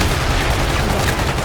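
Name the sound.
called-in missile bombardment striking, from the video game 2187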